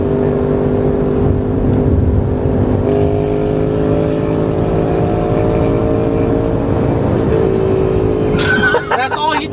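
A Ducati motorcycle held in third gear runs loud and close, its engine drone rising steadily in pitch as it revs hard; a sharp burst of other noise breaks in near the end.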